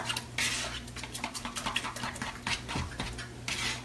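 A utensil clinks and scrapes repeatedly against a pan while food is stirred, a close string of irregular metallic taps and soft scraping with a faint background hum.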